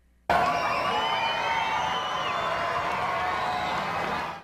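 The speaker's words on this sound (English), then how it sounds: "Cheers rose from the crowd in Capitol Square on May 3, 2007" A large outdoor crowd in Capitol Square cheering for Queen Elizabeth on May 3, 2007, breaking out suddenly into a loud, sustained roar of voices and whoops that holds steady before fading at the end.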